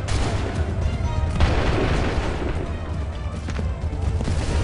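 Musket volley in the video game Assassin's Creed 3, heard as dense, sustained booming gunfire with a strong low rumble through the whole stretch and one sharper burst partway in.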